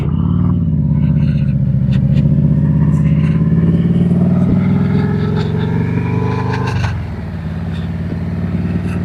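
Motorcycles in a group of five riders cruise along with a loud, steady engine drone and rushing wind, the pitch rising gently then dropping as the throttle eases off near the end.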